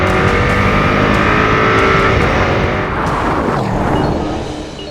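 A Porsche Cayenne Turbo GT launches hard and accelerates, its loud engine roar climbing through the revs with a brief dip at a gear change, close and sustained before easing off at the end.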